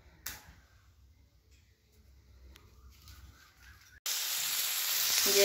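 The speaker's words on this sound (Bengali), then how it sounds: "এখানে আমি পেঁয়াজ ভাজা করছি আর টমেটো দিয়েছি চিকেনটা বসাবো বলে।" Onion and tomato frying in a little oil over an outdoor wood-fired clay stove; quiet, sparse crackles give way to a sudden loud, hissing sizzle near the end.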